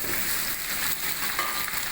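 Diced beef cubes sizzle and hiss loudly while being pan-roasted for kavurma, a dense continuous frying sound with no talking.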